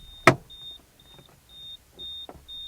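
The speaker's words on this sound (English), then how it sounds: "this silly little warning device that makes this horrible noise every time you leave your key in the ignition" A thin, high electronic key-in-ignition warning chime beeps repeatedly at a steady rhythm, about two pulses per second, over a loud thump and soft car-interior rustling.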